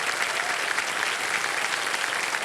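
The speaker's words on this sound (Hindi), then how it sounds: "तालियां बज जाए इनके लिए।" A studio audience on a game show claps continuously, dense and loud broadband applause held steadily throughout with no talk over it.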